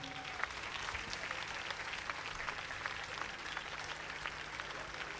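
A crowd at an outdoor live show in Sonnino applauds a troupe of dancers, a continuous even clapping heard from a distance, moderately faint and steady for the whole stretch.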